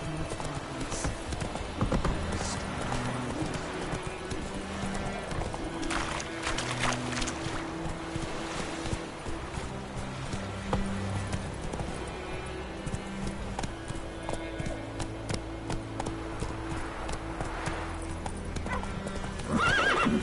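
Horse hooves clip-clop steadily in The Witcher video game, with a neigh rising above them, under continuous game ambience and music.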